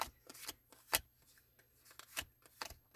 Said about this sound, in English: And then I'll go back to shuffling.